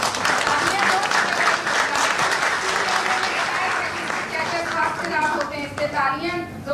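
Loud, sustained audience applause at a school awards ceremony in Raipur as student toppers are honoured, the clapping thick and continuous with some crowd voices and tapering slightly near the end.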